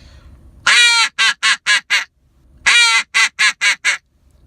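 A Buck Gardner duck call is blown in two loud, close sequences, each a long opening quack followed by four short, evenly spaced quacks, with a brief pause between the series.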